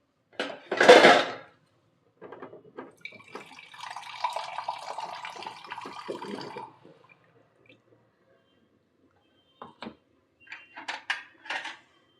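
Water splashes into a pot of broccoli and potato curry, a sharp pour at the start followed by a steady stream for a few seconds, then a handful of scattered drips and small splashes close by.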